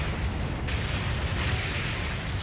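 Heavy cannon blasts from the arcade shooter Time Crisis Razing Storm rumble in a dense, continuous roar of booming explosions with no talking.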